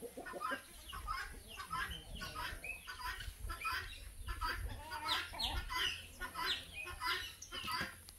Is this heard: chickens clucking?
yes